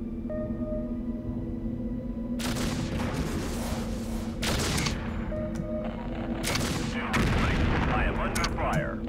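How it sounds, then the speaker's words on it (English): Gunfire and artillery in the strategy game MechCommander 2, broad booming bursts and rattling shots arriving in several separate clusters over a constant engine-like hum. "I am under fire."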